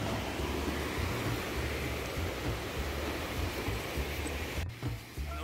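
Steady broadband rush of water at the foot of a waterfall, loud and continuous, with a deep low rumble underneath and no voices.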